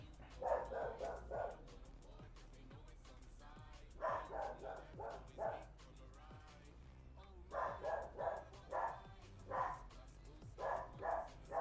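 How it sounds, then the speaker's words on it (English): A dog barks in several bursts of rapid repeated barks, each burst separated by quiet pauses, moderately distant and fairly faint. "That dog's gonna piss me off."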